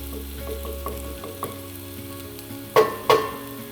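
Garlic sizzles and fries in a pan with a soft, continuous crackle, punctuated near the end by two sharp clinks of a utensil against the pan; no one speaks.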